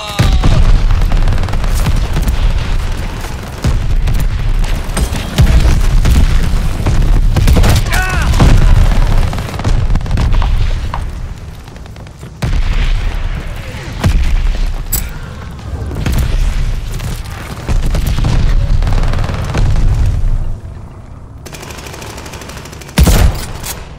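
Mortar barrage in the video game Call of Duty: Vanguard: loud, dense booming explosions one after another, mixed with rapid machine-gun bursts and scattered gunfire for a long stretch, with brief quieter gaps.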